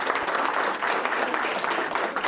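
A crowd at a school board meeting applauds steadily, a dense wash of clapping from many hands throughout.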